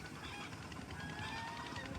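A caught duck quacks and honks in a noisy outdoor farm field, with steady background noise throughout.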